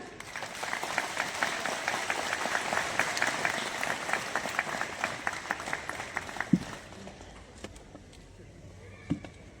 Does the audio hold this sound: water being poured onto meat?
no